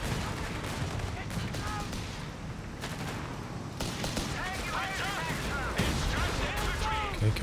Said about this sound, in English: a couple AT gun hits coming through